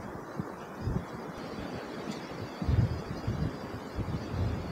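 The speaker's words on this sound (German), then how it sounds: "Und der Wind ist kalt, richtig kalt." Cold, icy wind blows outdoors on a hike near a castle, a continuous rushing roar with gusty swells and buffeting across the whole stretch, with no voices.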